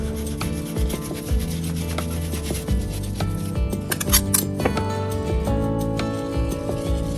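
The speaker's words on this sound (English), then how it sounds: "turn your flank steak a quarter turn and slice it into about 1/4 inch thickness" Knife slicing partially frozen flank steak into quarter-inch strips, repeated rasping, rubbing strokes up close with no talking.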